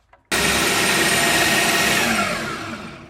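A blender whirs loudly and steadily as it purees frozen bananas into churro nice cream, starting abruptly and holding its roar, then easing slightly toward the end, with no talk over it.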